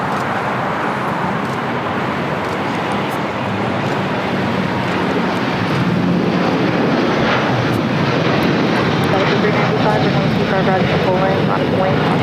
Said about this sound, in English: This is El Al Flight 6 taking off to Tel Aviv, Israel on the 787-9 Dreamliner.